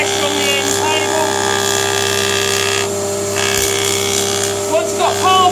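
An over-and-under planer-thicknesser set up as a surfacer planes a timber block. Its loud, steady motor whine and cutter drone run continuously close by, with a brief change in the cutting noise partway through.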